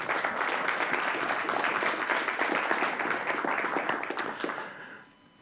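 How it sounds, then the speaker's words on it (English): An audience at a Presidents' Day press conference applauds the sponsors and staff with sustained, dense clapping from many hands. It holds steady for several seconds and then fades out at the end. "So would you please join me in applauding our sponsors and our staff members."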